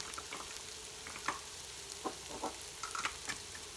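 Onions caramelizing in a frying pan give a soft, steady sizzle and crackle, with scattered faint pops and stirring scrapes at a low level, no talking.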